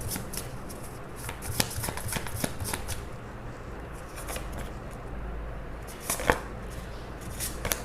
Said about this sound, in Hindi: सो हमने कार्ड्स निकाल लिए हैं।